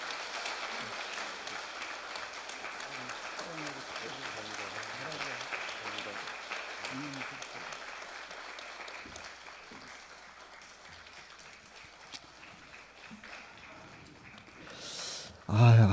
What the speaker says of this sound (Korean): 우리 다시 한번 큰 박수 주시면 감사합니다.